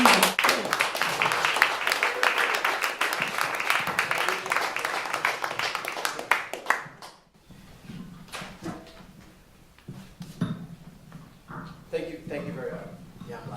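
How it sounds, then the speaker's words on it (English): Audience applause for a poet at a reading, a burst of clapping from a crowd lasting about seven seconds and then dropping off abruptly, followed by quieter room sounds and a voice talking. "Let's give him a warm round of applause."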